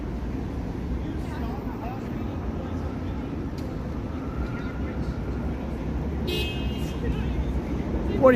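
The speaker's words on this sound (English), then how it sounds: "Quit your honking" A car horn honks briefly near the end, standing out over a steady rumble of evening traffic on a drive from North York toward downtown Toronto, with voices in the background.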